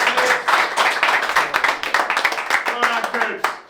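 A football team's clapping and cheering indoors, a dense burst of many hands with raised voices mixed in, loud and close, tailing off near the end.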